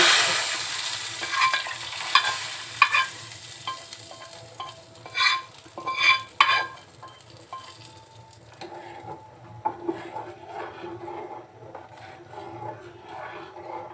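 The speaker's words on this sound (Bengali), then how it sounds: "বাগারটা ডালের ভিতরে ঢেলে" Hot tempering poured into red lentil dal on the stove, a loud hissing sizzle at first that settles into quieter bubbling, with a few clinks and scrapes of stirring near the start.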